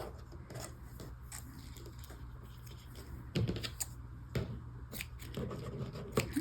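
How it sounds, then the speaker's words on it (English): Paper scissors snipping during a craft project, a few distinct cuts standing out from a quiet background of light rustling and handling noise, close by with no talking. "I grabbed the wrong scissors again. Those are my paper scissors."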